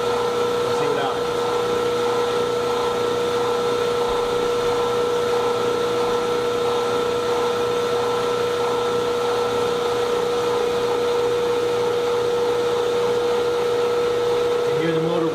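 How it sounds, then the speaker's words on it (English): A steady, constant hum and whine comes from an AC electric motor running near full load on a dynamometer, with tonal bands unchanged for the whole stretch and a faint voice underneath. "You can hear the motor working now."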